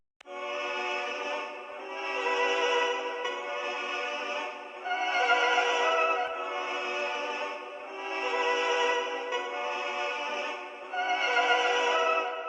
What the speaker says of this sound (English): I found this choir loop, which I pitched down by 4 just to bring it into the key